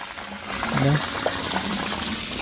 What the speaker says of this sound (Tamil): ஒரு வீட்டுக்குள்ள ஒரு முத்தத்தில் இருந்து தண்ணியை வழியில் விடுறாங்க